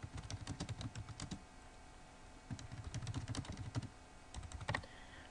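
A computer keyboard being typed on to enter a short description, heard as quick bursts of close, clicky keystrokes separated by short pauses, with no talking.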